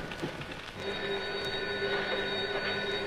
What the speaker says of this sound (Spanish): Contesta al teléfono para que te convenzas.